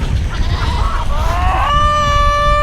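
Goats on a farm give a long, wavering bleat that rises and then holds steady, heard fairly close over steady outdoor background noise.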